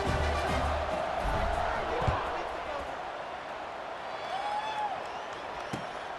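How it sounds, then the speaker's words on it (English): Large football stadium crowd roaring and cheering just before a kickoff in a close fourth-quarter game, a broad sustained wash of noise with bursts of shouting throughout. "this crowd now ready to get behind them"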